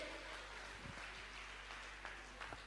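Audience applause at a religious discourse gathering, steady dense clapping throughout at moderate distance over a low constant hum.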